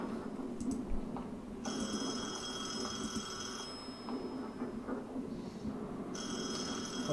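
In the Detention video game, a telephone rings in repeated bursts with pauses between them, a bright, insistent ring over a low, eerie ambient background.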